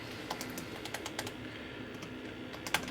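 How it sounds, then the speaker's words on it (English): Light, irregular keyboard typing, a scattering of soft clicks and key taps over a quiet background hum. "First way we're going to do it is just by typing in this code."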